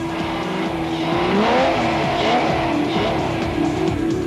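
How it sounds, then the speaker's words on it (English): V8 Chevrolet race cars battle on a circuit during a 1997 Super Series race, engines roaring continuously at high revs, pitch rising and falling through gear changes, with some tire squeal. "the battle for second position was resumed between Harkis and Linton Draper in his big V8 Chev"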